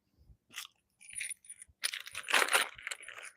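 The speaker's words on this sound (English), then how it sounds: "Bag of bolts." Metal bolts in a bag rattle and clink in several bursts of jangling and crunching, close and fairly loud, with short pauses between the handfuls.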